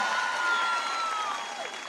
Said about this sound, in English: let's give Cassandra a huge round of applause for her service to our country and the great introduction